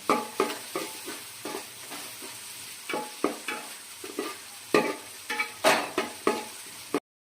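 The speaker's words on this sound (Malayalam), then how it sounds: "ഇതിലേക്ക് ഒരു നാല് പച്ചമുളക് ശേഷം കുറച്ച് ചെറിയ ഉള്ളി ചതച്ചത് ഇതിനകത്ത് ആഡ് ചെയ്ത് കൊടുക്കാം ഇനി നന്നായിട്ട് ബ്രൗൺ കളറായി വരുന്നത് വരെ ഇളക്കിക്കൊണ്ടേ ഇരിക്കാം" Green chilies and crushed shallots fried in a pan for chicken curry, stirred with rhythmic scraping strokes roughly twice a second over a continuous sizzle, close and clear, ending abruptly.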